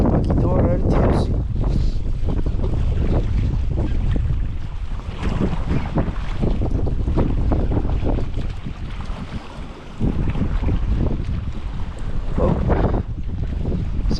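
Strong cold wind buffets the microphone at Lisi Lake, a steady loud rumbling roar that gusts throughout with brief lulls, mixed with faint water lapping.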